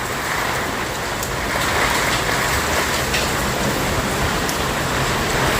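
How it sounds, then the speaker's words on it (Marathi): Heavy rain driven by strong wind makes a loud, steady, dense roar that holds without a break throughout. "खूप म्हणजे खूप जोराचा पाऊस आलेला आहे आणि हवा आहे ना"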